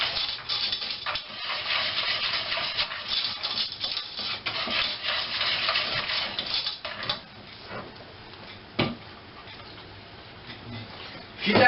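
A spoon stirs homemade chocolate pudding mixture in a pot, making soft continuous scraping and rubbing with a few light clinks against the metal, close by and fairly quiet.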